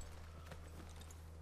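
Horse hooves clop softly in the video game The Last of Us 2, a few faint hoofbeats over a low steady hum, with no voices on top.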